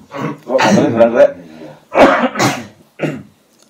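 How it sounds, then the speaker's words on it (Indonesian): A man coughs several times in a row, with harsh throaty bursts close to the microphone and short pauses between them. "Batuk lagi."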